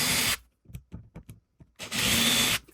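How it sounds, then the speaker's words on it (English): A power drill bores hinge holes into a wooden router jig, two short high-pitched whirring bursts separated by soft tapping and handling knocks, close and clear. "then you can drill them out in the usual way"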